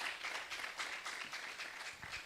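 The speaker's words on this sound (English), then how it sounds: "Give that a round of applause." A summit audience claps in steady, moderately loud applause for a couple of seconds, with no one speaking over it.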